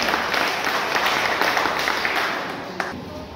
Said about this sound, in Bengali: সুখদেববাবুর জন্য আরেকবার হাততালি আপনারা।